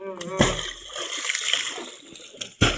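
Someone leaps into water during a fishing outing, producing a loud broadband splash followed by sloshing, with a second sharp splash near the end; voices talk faintly around it.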